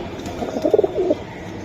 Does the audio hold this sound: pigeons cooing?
yes